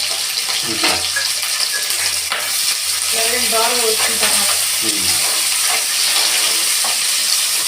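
Chopped onion, green chilli and curry leaves fry in a pan, giving a loud, continuous close-up sizzle with stirring scrapes and a brief voice partway through.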